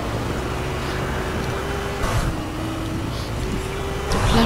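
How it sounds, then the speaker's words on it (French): Ferrari sports car driven in Fortnite Battle Royale, a steady engine drone with low tonal hum running continuously throughout, slight rises in intensity near the middle and end, no talking over it. "Voilà donc j'ai roulé en attendant la tempête."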